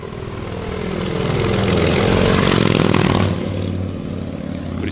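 A 1982 Harley-Davidson FLT Tour Glide motorcycle engine roars up close, swelling to a loud, rumbling peak of revving before easing back to a steady throaty idle.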